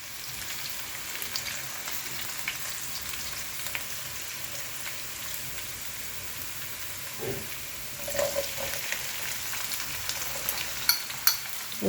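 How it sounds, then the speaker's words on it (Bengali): Garlic frying in a pan for pasta, a steady soft sizzle running throughout at moderate distance, with a brief clatter of stirring near the end and no talk. "রসুন ভাজা হচ্ছে"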